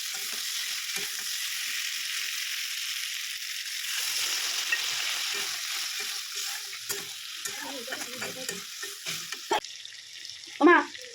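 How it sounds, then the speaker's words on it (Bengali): Prawns, fried earlier, go into a spiced pan and sizzle in a soft, steady hiss, with scattered scrapes and clatters of stirring toward the end. "এখন আমি ভেজে রাখা চিংড়ি মাছগুলো দিয়ে দিব"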